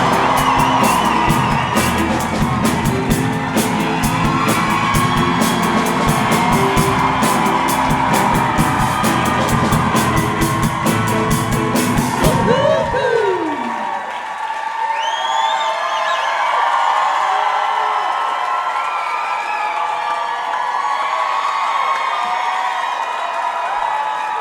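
Live comedy-show audience erupts in loud cheering, whoops and applause for Maya Rudolph, a dense roar that cuts off partway, leaving a quieter murmuring crowd with scattered yells.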